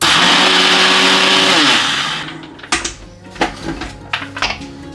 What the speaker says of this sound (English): Just want to blend these for a couple of minutes into a flour.